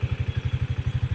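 Honda TMX Alpha motorcycle engine bored up to 175cc idling close by, a fast, steady, heavy thumping beat with a low throaty pulse and no talk.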